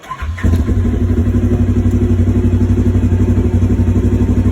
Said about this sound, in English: Once I start the vehicle,